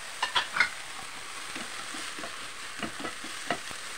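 Onion frying in a pan for a Filipino bitter melon stir fry with meat and garlic gives a soft, steady sizzle with a few light stirring scrapes, close and fairly quiet.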